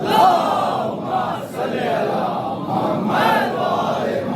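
A majlis congregation at an Ashur khana roars religious slogans in unison, loud massed voices rising in repeated swells every second or so, each call answered by the crowd.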